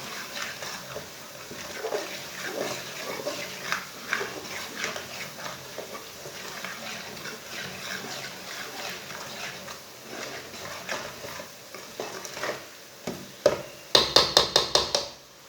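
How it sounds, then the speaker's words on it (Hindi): Whole spices roast in oil in a pan for a Punjabi-style potato and chicken curry, giving a steady low sizzle with light scraping from stirring, then a quick run of sharp metallic clinks at the end. "सब मसालों को 1 मिनट तक भून लेंगे।"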